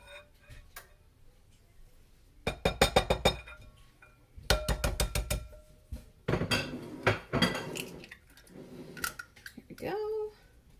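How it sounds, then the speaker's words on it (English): Ingredients whisked in a bowl with an Epicure mini whisk, heard as bursts of rapid metallic clinking and rattling against the bowl in three or four runs, with quieter pauses between. "So I'm going to whisk that all together, and then I'm going to add the egg."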